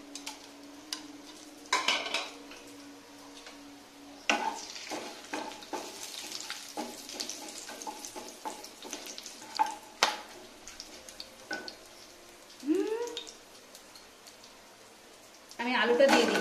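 Cumin, bay leaf, coriander, pepper, cloves and cardamom hit hot oil for spicy aloo dum, giving bursts of sizzling and crackle with spoon and pan clinks, broken by quieter gaps and a louder sizzle at the end.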